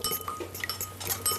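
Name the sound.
mixing slaw dressing of garlic, mustard, honey, vinegar, oils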